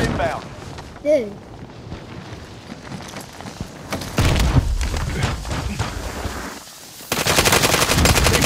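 Bursts of automatic gunfire from a Call of Duty: Modern Warfare match, loud rapid clusters of shots with booming hits growing denser toward the end, with voices talking over the action.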